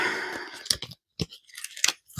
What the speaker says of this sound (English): Shuffle them good.